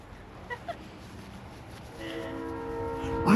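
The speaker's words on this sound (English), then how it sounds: "I hear a train" A train rolls by at a distance in rural Pennsylvania, a low rumble building steadily with a sustained horn blast rising near the end, heard outdoors beside a cemetery.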